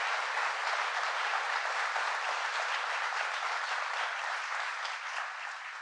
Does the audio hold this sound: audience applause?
yes